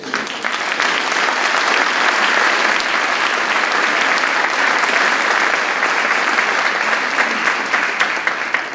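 Ceremony crowd applauding the winners on Veterans Day, a loud, dense and continuous round of clapping from many hands, steady throughout with no voices on top.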